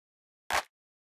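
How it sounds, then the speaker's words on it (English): A single electronic clap sample sounds once, a short bright crack with a brief noisy tail, isolated in silence and fairly quiet. "but it's just a nice sounding clap"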